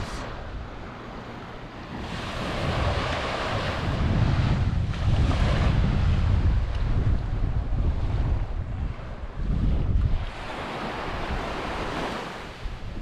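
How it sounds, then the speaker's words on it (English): Surf washing onto a sandy beach on an island in the Great Keppel area, steady loud rolling waves with strong wind buffeting the microphone, no one speaking. "So this is the beautiful Svenson's Beach."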